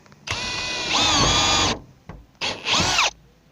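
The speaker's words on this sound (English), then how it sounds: "The tech screw is self-drilling." A power drill whirs loudly in two bursts, pitch dipping as a self-drilling tech screw bites into ceiling board, with a short pause between runs and no talking.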